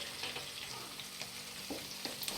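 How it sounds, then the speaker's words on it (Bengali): Garlic frying in a pan with steady broadband sizzle, stirred a few times so faint scrapes rise above the constant crackle of hot oil, moderately quiet and close. "এরপরে রসুন দিয়ে একটু ভালোভাবে নাড়াচাড়া করব।"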